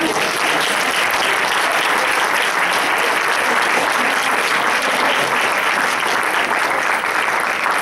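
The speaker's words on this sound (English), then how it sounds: "Can you give her another round of applause?" A ceremony audience claps continuously, a dense, even wash of applause from a large crowd that holds at steady loudness for about eight seconds, with no speech over it.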